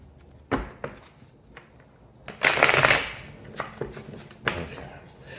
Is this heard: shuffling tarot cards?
yes